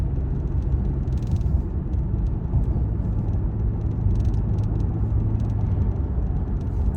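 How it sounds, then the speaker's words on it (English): A Toyota drives along the road towing a trailer, heard as a steady low rumble of engine and road noise throughout, close and constant, with faint higher whirring patches and no speech. "I'm driving a Toyota. It's not known for speed."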